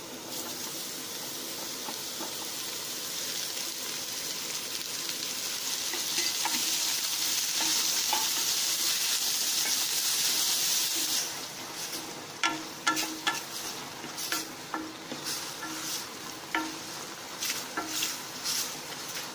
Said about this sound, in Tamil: இப்போ வெங்காயம் நல்லா வதங்கினதுக்கப்புறம் இது கூட கட் பண்ணி வச்சுருக்கிற மஷ்ரூம் நான் ஆட் பண்ணுறேன்.